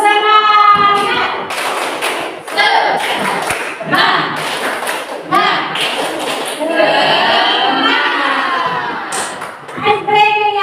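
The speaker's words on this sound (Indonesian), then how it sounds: "kita tepuk semangat dulu" A group of students doing tepuk semangat, a chanted rhythmic clapping routine, with bursts of claps and thumps between loud voices chanting and shouting together in a classroom.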